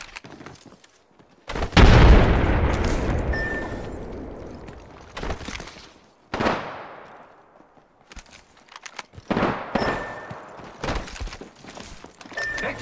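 A frag grenade detonates with a loud, close boom that decays over a couple of seconds in Apex Legends, followed by scattered bursts of gunfire and shuffling movement between quiet gaps.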